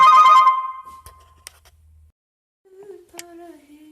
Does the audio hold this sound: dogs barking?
no